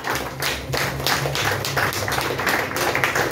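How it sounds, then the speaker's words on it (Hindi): An audience claps loudly and together at an event, a dense burst of hand claps with a rhythmic pulse that lasts a few seconds. "एक बार जोर से ताली बजाइए।"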